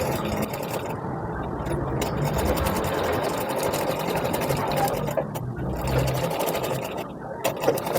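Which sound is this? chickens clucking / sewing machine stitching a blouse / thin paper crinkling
sewing machine stitching a blouse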